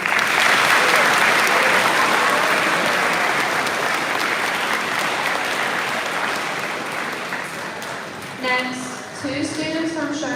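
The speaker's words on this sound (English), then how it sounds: "Let's give a round of applause to the band for providing us with beautiful music tonight." An audience at a live high school event applauds the band, loud and sustained clapping that fades slowly. As it dies away, a voice begins speaking near the end.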